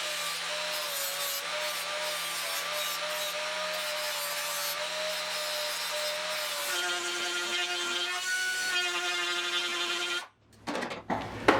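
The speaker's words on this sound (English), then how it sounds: "I'm grinding it like this on purpose." An angle grinder works the steel door skin of a 1972 Triumph GT6, giving a steady, loud tonal whine that holds for about ten seconds, shifts pitch partway through, then cuts off abruptly.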